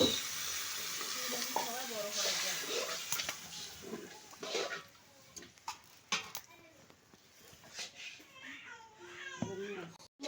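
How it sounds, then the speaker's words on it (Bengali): Spices frying in a large wok for a big family meal, a steady crackling sizzle with stirring scrapes and clatter, heard close but fairly quiet, with people talking over it throughout. "মশলা প্রায় কষানো শেষ"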